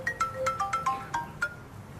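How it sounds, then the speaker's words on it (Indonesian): Mobile phone ringtone for an incoming call, a series of short tonal melodic beeps in a quick pattern, moderately loud and heard on its own. "Tuh, mamanya telepon lagi."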